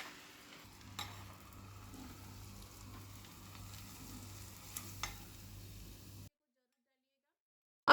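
Hot tempering with red chili powder poured into chole sizzles in a steady, close, hissing crackle for about six seconds, then stops abruptly into silence.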